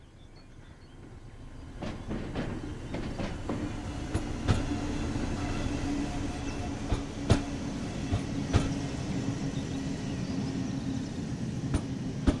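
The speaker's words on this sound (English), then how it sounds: "Your train has arrived." A simulated train arriving on the Mittenwaldbahn mountain railway in Train Sim World 5, a rumble that swells in over the first seconds into steady running noise, with a low hum and scattered sharp clicks and clacks of wheels over rail joints.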